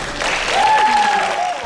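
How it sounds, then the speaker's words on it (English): Brief, lively applause from an audience, a dense burst of clapping that holds steady for a moment. "All right, let's have a round of applause for Jessie."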